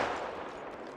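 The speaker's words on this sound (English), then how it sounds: "Yeah, getting shot at." Enemy gunfire aimed at the player in Apex Legends, a rapid stream of shots that is loudest at the start and holds steady at moderate volume, slightly muffled and distant.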